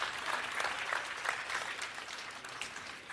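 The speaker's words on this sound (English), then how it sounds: "Let's give them a round of applause." Audience applause at a Mercedes-Benz press conference at CES 2024, a steady, dense wash of clapping from a large crowd at moderate distance, with no speech over it.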